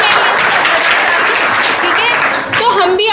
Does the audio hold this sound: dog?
no